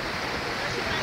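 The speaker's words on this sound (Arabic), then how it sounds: "هاي نهر من الانهار" Summer river flowing near Zermatt, Switzerland, below the Matterhorn, a steady close hiss and rush of moving water filling the whole moment without pause.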